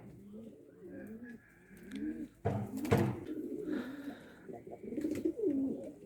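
Pigeons, including a black boot-legged (feather-footed) male, coo in soft, repeated throaty calls nearby, with a brief fluttering or rustling burst in the middle.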